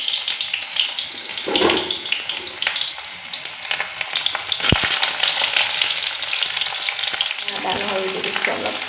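Chopped onion dropped into hot soybean oil in a pan, a loud bright hiss and sizzle that flares up with stirring and carries on strongly, close by.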